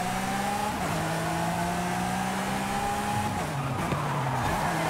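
A race car in the video game Forza Horizon 5 revs with a steady whining engine tone that shifts pitch as the tires squeal and skid through corners, loud and continuous with no talk.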